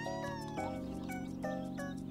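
Cats in a cute cafe-building video game give short, bright meows over a steady, cheerful music track, with several separate calls spread across the clip.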